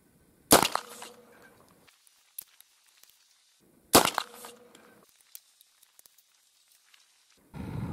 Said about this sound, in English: Let's go ahead and fire these at a target through the rifle barrel